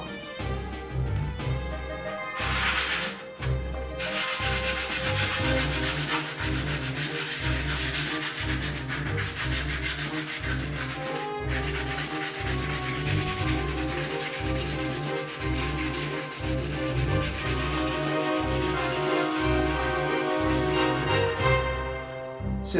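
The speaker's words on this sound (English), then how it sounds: "Now it's time to get to sanding it a little bit." A glued wooden craft piece, a circle and a mountain shape, is hand sanded along its edges, giving a steady rhythmic scraping with regular back-and-forth strokes, close and fairly loud throughout with no talk.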